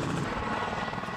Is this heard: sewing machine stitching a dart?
no